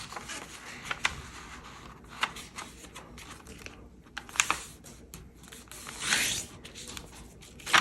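A sheet of paper being unfolded, rotated and creased while folding an origami hoop, giving close, crisp rustles and sharp crackling presses with a longer swishing rub near the end, no talking.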